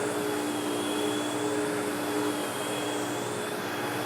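A carpet cleaning machine running on its low setting over low-pile carpet, a steady loud whirring drone with a faint whine that stays even the whole time, no talking.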